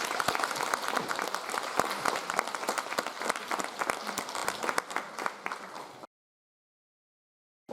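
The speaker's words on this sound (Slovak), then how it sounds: "A my ju srdečne pozdravujeme a posielame potlesk." An audience at a Teachers' Day 2024 celebration in Krásno nad Kysucou claps warmly in dense, steady applause for about six seconds, then it cuts to silence.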